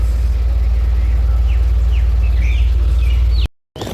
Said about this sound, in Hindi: कोयल की देखो कैसे आवाज आ रही है